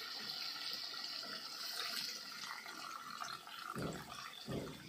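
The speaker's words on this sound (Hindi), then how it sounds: "थोड़ा सा पानी डाल देते हैं" Water pours steadily into a clay pot of frying chefua fish and masala, a hissing, splashing rush that ends in a few soft thuds.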